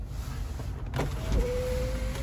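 Electric motor whir of the power sunroof on a 2014 Toyota Camry 2.4 automatic as it opens, a steady hum starting about midway through and running on to the end inside the quiet cabin.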